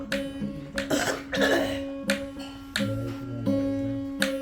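Someone coughs repeatedly in short, harsh bursts, close up, with brief pauses between fits and a faint steady hum underneath.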